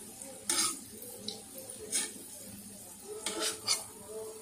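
Semolina pakoras being flipped in a frying pan, several short scraping clinks of a utensil against the pan, spaced irregularly over a quiet low sizzle.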